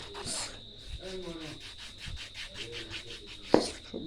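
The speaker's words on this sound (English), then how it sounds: "We scrub the bottom." Close, rhythmic rubbing and scrubbing against the bottom of feet, repeated brushing strokes with a sharp knock near the end, no talk.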